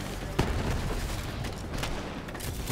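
Gunfire and a grenade blast sound in a video game, with a sharp boom near the start followed by a dense, continuous rattle of shots and explosions.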